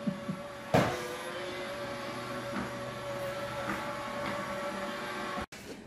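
A cheap robot smart vacuum cleaner runs steadily nearby with a constant motor whir and hum, a sharp bump knocks against it early on, and the sound cuts out briefly near the end.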